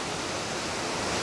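A waterfall rushes below, heard from directly above on a cliff top: a steady, dense broadband roar with no breaks or voices.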